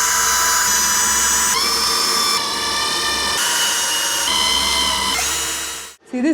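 A power drill drives screws into a wooden beam for mounting plastic slats on an off-grid homestead in Portugal, giving a loud, steady high-pitched whine in several long bursts that shift pitch, then briefly stop near the end.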